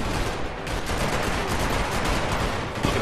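Loud, sustained video-game gunfire, rapid overlapping shots forming a continuous barrage that stays close and fairly even throughout.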